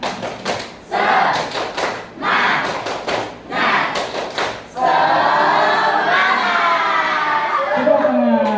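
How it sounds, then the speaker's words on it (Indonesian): A school class doing a rhythmic spirit clap (tepuk semangat), bursts of loud group clapping in timed patterns, then children chanting and shouting together, close and energetic. "mari kita tepuk semangat"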